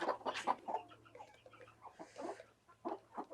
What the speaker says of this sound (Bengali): আর এখানে আমার মুরগির সংখ্যা দেখেন